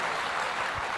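Audience clapping for a DJ, a dense steady wash of many hands applauding throughout a brief moment, fairly close and continuous.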